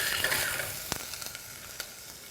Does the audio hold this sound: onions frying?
yes